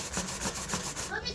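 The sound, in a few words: grating food into a paste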